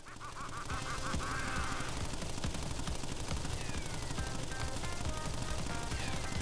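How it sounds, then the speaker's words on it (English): Gunfire from Pinstripe Potoroo in the Crash Bandicoot N. Sane Trilogy on PS4, a dense, continuous rattle of rapid shots running loud throughout, mixed with game music and effects. "Now it's time for Pinstripe Potoroo, who is interesting, because he is the only motherfucker with a gun"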